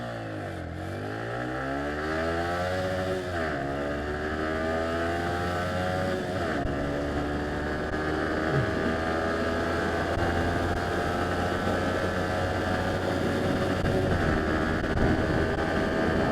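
A Yamaha XSR155 motorcycle pulls away from a stop and accelerates hard, its engine rising steeply through gears with pitch sweeps, loud and steady close to the rider.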